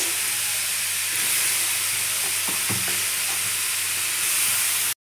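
Radish pieces fry in hot oil tempered with black cumin and dried chilli, giving a loud, continuous close sizzle and hiss with a few soft stirring knocks near the middle.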